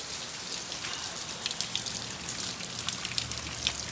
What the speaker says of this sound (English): Oh, now I'm in the rain.